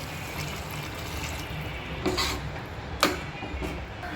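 Water is poured into a pan of chole masala with chilli powder, a soft, steady splashing and sizzling hiss, with a couple of brief louder splashes near the end.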